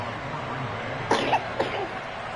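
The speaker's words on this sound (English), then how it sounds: "Did you hear her cough?" A woman gives a few short coughs, three quick bursts at moderate distance over a low background hum during a Madden 23 football game session, with no talking.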